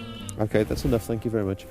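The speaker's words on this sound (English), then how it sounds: "You can hear the sheep in the background." Sheep bleating on a remote stretch of the Cape Wrath coast, a series of wavering, harmonic calls running through the clip and overlapping with a man's speech in the foreground.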